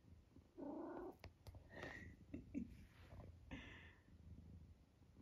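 A pet cat gives a few short, high squeaky chirps indoors, close by and fairly soft, with quiet rustling and brief gaps between calls.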